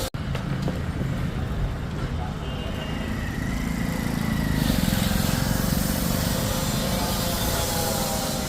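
A sold vehicle sets off with its engine running under steady noise. The engine rises and grows louder partway through, and voices can be heard in the background.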